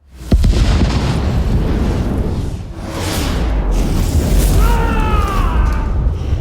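A factory explodes after gas is lit with a match in an action film, a sudden deep boom rolling into a sustained roaring rumble with whooshing debris and a brief dip before surging again.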